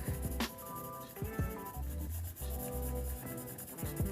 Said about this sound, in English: I love the way pencils sound against paper.